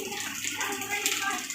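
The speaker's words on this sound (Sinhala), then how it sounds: "මොන වතුර ටික පෙරෙනවා" Water runs steadily through a homemade filter setup, a continuous close hiss and trickle with a voice talking over it.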